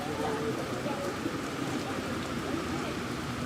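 Heavy rain falls steadily during a bike ride in a stage event, a dense, even hiss of drops on surfaces filling the whole stretch without pause.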